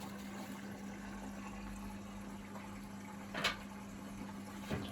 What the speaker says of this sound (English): The water's coming in on the number 1 side.